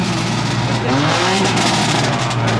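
A loud BMW M3 CS car engine revs and roars close by at a car meet, pitch climbing and falling over a steady rumble, with faint crowd noise behind.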